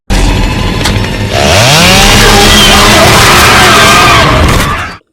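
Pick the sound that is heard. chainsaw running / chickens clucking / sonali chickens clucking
chainsaw running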